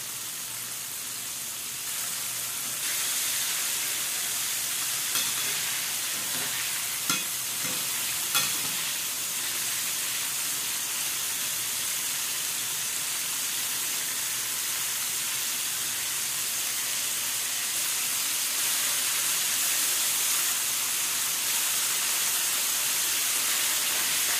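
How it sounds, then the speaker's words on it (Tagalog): Chicken wings deep fry in hot oil, a constant loud bright sizzle and hiss that holds steady throughout, with a few faint knocks early on and no voices. "hintayin natin mag-golden brown ang ating i-fry na chicken wings"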